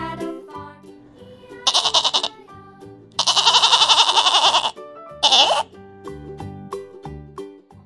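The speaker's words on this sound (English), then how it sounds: "G for goat." A goat bleats in several loud, wavering calls, one long sustained cry in the middle flanked by shorter bursts, set over a bouncy children's alphabet song with music throughout.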